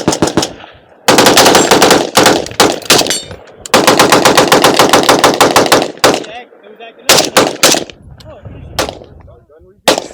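Gunfire at an outdoor shooting range: loud rapid strings of close shots in long bursts, broken by short pauses, with a few final single shots and faint talk between.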